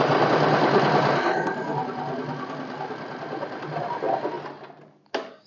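Sewing machine stitching a back stitch on a semi-Patiala salwar, a close continuous motor whir and needle clatter that slows and stops, followed by a brief click.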